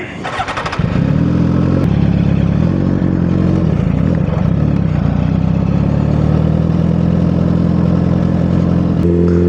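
A Suzuki Gixxer 1000 superbike starts up and settles into a loud, steady engine drone, heard close from the rider's position through a long continuous stretch with faint clatter.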